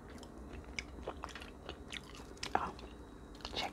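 Delivered fries are chewed up close in quiet, soft crunchy bites, with irregular moist chewing sounds and occasional louder crisp snaps.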